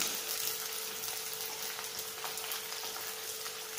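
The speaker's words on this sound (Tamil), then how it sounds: "இது நல்லா பொரிஞ்சிச்சு பாருங்கள்." Spices crackle and fry in hot oil for vendakkai puli kuzhambu, a steady dense sizzle with fine popping throughout, close and moderately quiet.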